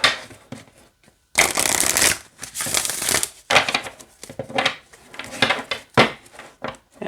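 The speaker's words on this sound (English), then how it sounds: "All right, let's see how it shuffles." A deck of oracle cards is shuffled in several quick riffling bursts, crisp and close, separated by short pauses and soft handling noises.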